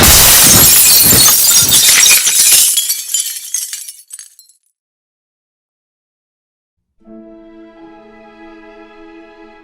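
Glass smashing in a Holocaust museum exhibit about Kristallnacht, a loud crash with scattering shards that fades over about four seconds, then silence, followed by a soft sustained tonal hum.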